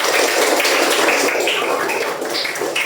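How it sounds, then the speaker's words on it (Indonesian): A sixth-grade class claps their hands together in a dense, close patter of many overlapping claps that continues evenly for a few seconds. "Tepuk tangan semuanya."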